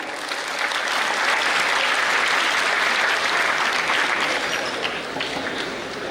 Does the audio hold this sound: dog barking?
no